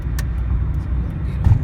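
Steady low road rumble of a Mitsubishi Lancer cruising on a highway, continuous engine and tyre drone from inside the cabin with a brief louder bump near the end.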